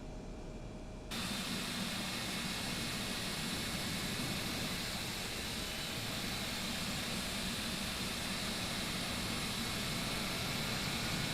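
An MD-80 airliner's number one jet engine spools up in the X-Plane 12 flight simulator, with a quieter lead-in giving way to a steady, loud broadband roar that holds evenly.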